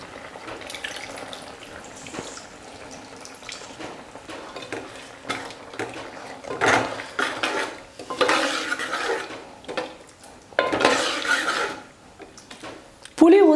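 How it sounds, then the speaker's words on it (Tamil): Tamarind water is poured into a simmering pot of chow chow sambar, with splashing liquid, stirring and clinks of a utensil against the pot in several bursts. "புளியை ஊற்றிக்கலாம்."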